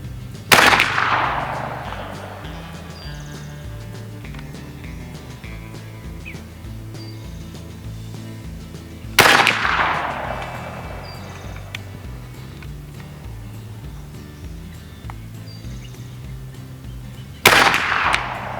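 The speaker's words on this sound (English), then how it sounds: "Flanagan strikers, left-hand target, fire." Three sharp airgun shots fired at a target with Flanigans precision pellets, evenly spaced about eight seconds apart, each a loud crisp crack with a short decaying tail over a low steady background hum.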